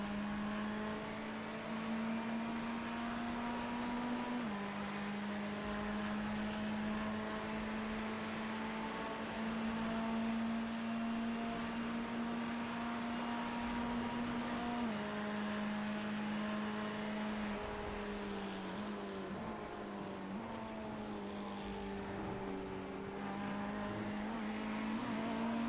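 GT3 race cars lapping at the Daytona 24 Hours in iRacing, a steady droning engine note held at high revs with occasional shifts in pitch, continuous and fairly distant, no voices.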